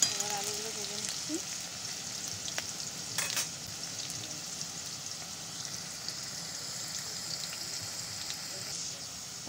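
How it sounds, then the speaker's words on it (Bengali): Diced potatoes fry in hot oil for chana ghugni, giving a steady soft sizzle with occasional stirring scrapes, moderately close and unbroken by talk. "তারপরেই দিয়ে দিলাম হচ্ছে আলুগুলো, ডুমো ডুমো করে কেটে রেখেছিলাম আগে থেকে, সেই আলুগুলো এবার আলুগুলো ভেজে নিচ্ছি।"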